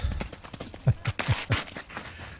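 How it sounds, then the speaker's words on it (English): A horse runs on open ground outdoors, hooves clip-clopping in a quick uneven rhythm of several thuds, fairly close and clear, no voices. "Horse has no problem outrunning that dog, though."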